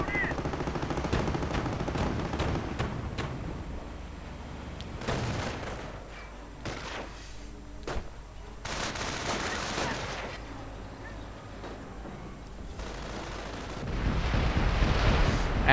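A Calliope rocket artillery barrage in a video game: dense, overlapping bursts of rocket fire and explosions roll on for most of the stretch, swelling loud again near the end, with faint commentary underneath.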